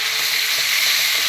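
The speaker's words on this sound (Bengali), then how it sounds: "এবার আমি ভালো করে একটু মশলাটা কষিয়ে নেব।" Ground turmeric and Kashmiri chili powder sauté in a pan with tomato paste, giving a loud, close, continuous hiss and sizzle and no speech.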